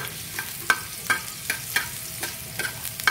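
Ginger dropped into a sizzling pan while cooking chicken kinamatisang manok, with a steady low sizzle broken by regular spatula scrapes and clicks roughly every half second; no talking.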